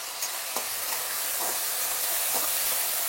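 Soaked dal sautés in hot oil, giving a continuous airy sizzle with a few soft scraping knocks from stirring, steady and close, with no talking.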